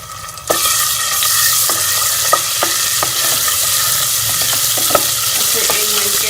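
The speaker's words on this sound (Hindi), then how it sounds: "इसे 1 मिनट के लिए फ्राई होने देंगे।" Garlic-ginger paste frying in a spoonful of ghee for dal, a steady close sizzle with occasional clinks and scrapes of a spoon stirring the pan, no talk.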